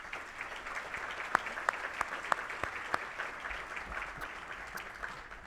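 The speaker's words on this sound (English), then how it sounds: "Let's please have a round of applause for all of our sponsors." A business expo keynote audience claps steadily for several seconds, a dense patter of applause with a few sharper, louder claps standing out.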